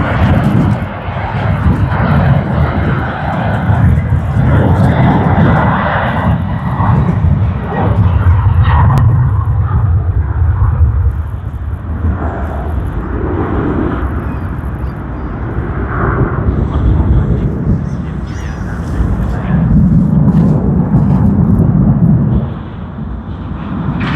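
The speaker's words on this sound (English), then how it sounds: "We should get Sydney to Tokyo Haneda service A330-300." Airbus A330-300 airliner on the Sydney to Tokyo Haneda service at Sydney Airport, a loud, sustained, rumbling jet engine roar that rolls on throughout with slow swells, like a heavy aircraft passing close by.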